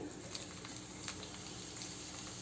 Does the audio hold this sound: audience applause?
no